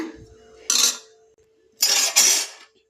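A metal spoon scrapes and clatters against a pan while fried ingredients are mixed into coconut rice, three distinct close bursts of scraping separated by brief quiet.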